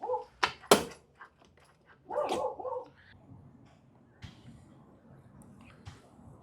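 A neighbourhood dog running loose off its leash barks a few sharp times at a moderate distance, then gives a brief whimpering yelp, with faint outdoor background and a voice speaking softly.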